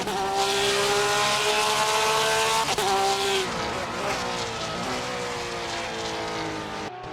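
Race car at full speed around Spa-Francorchamps, a loud high engine whine with falling gear-change pitch steps and a brief tyre screech, steady and close throughout.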